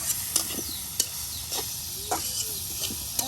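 Bitter gourd (karela) frying in a pan, a soft sizzle with a series of distinct scraping stirs roughly every half second, close and fairly quiet.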